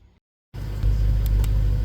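A truck engine starts after a brief silence and settles into a steady, loud idle close by, with no talking.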